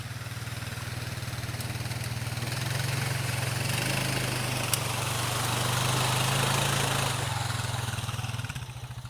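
A four-wheeler ATV engine runs at a steady, fairly distant idle-like drone for several seconds, swelling slightly midway and dipping near the end, with no voices heard.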